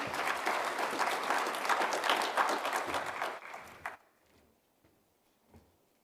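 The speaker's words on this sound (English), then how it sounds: "Round of applause." Audience applause at an underwater occupational health and safety conference, a dense burst of clapping that fades out after about four seconds, leaving near silence with a few faint stray claps.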